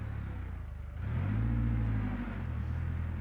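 Engine of a 2022 Nissan Rogue Sport in the BeamNG.Drive driving game, a steady low hum that swells briefly as it accelerates and then settles back to a constant drone.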